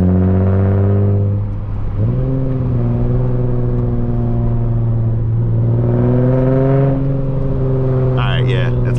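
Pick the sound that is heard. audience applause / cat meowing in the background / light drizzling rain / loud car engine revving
loud car engine revving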